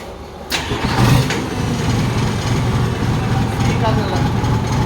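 A car engine revs through an exhaust tip, loud and close, with a continuous deep roar and a surge near the start. Voices talk over it.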